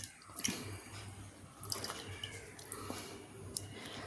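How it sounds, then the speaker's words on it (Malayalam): Tamarind squeezed by hand in water for a puli curry, with soft wet squelches and drips falling back into the bowl, close and fairly quiet, with no talk. "ഞാൻ നല്ലത് വെള്ളം ഒഴിച്ച് നല്ല രീതിയിൽ ഒന്ന് പിഴിഞ്ഞ് നല്ലതുപോലെ ഒന്ന് പിഴിഞ്ഞെടുക്കുക"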